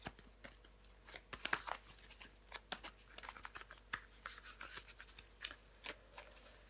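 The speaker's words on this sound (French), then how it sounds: "Mais on va recouvrir des cartes." Tarot cards are handled, shuffled and turned over on a table, giving close, quiet papery snaps, slides and rustles in an irregular stream of brief crisp flicks.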